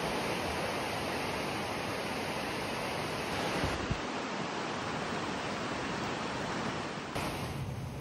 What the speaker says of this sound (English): Here's a look at the rapid that we will be paddling the next day.